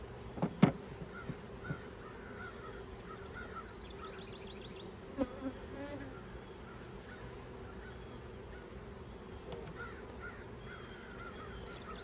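A swarm of bees buzzes quietly in the open during hive work, a faint continuous drone with occasional close passes, while distant crows caw and a few knocks sound nearby.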